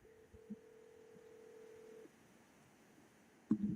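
A phone call rings out over a telephone line, one steady ringback tone lasting about two seconds after a brief click, then quiet line noise and a short burst at the end, faint and alone with no talking.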